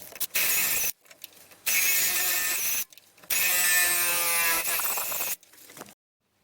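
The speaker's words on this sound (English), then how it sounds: "I will clean these holes with a drill next." An electric drill cleaning out holes in an Alfa Romeo 159 Q4 JTDm front exhaust pipe, three loud whining bursts separated by short gaps, with the motor pitch shifting as the bit works the metal, then silence.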